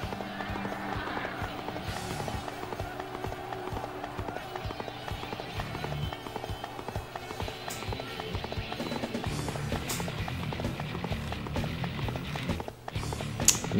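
A horse gallops in the video game Dynasty Warriors 5, rapid hoofbeats pounding steadily for several seconds amid game effects and battle noise.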